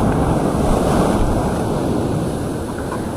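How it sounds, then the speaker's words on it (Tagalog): Big ocean waves break and surge loudly on a shoreline at rising tide, a continuous roaring wash of surf with wind buffeting the microphone throughout, no voices. "grabe yung alon dito"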